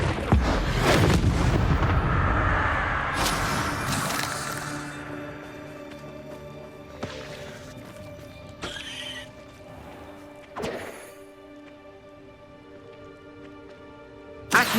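In the video game Hogwarts Legacy, a Confringo explosion spell erupts in a loud burst near the start, followed by fainter booms and crackles with a low background hum.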